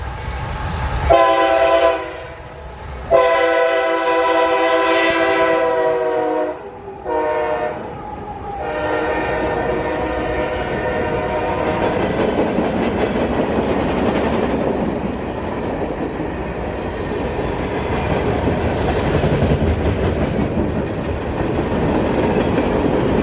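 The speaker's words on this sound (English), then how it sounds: "a very cool train to see" A diesel locomotive sounds its loud horn in several blasts, then a heavy freight train rumbles steadily past, close by and continuous.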